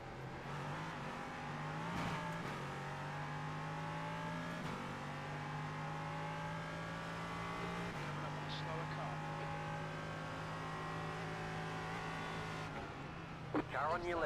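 Race cars in a multi-class racing game at Zandvoort, an LMP3 engine droning steadily with shifting pitch and occasional gear changes, a constant close hum throughout with brief clatter near the end.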